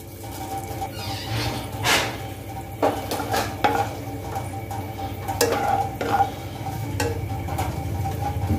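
Fenugreek seeds drop into hot mustard oil in a pan, giving a steady sizzle and frying hiss with a few utensil clinks and stirring scrapes, close and alone without talk.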